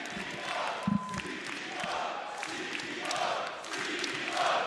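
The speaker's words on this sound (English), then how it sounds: "I need to hear the crowd go crazy" A large esports watch party crowd at a million-dollar grand final cheers and roars continuously, with loud swelling waves of voices, whoops and shouts filling the room.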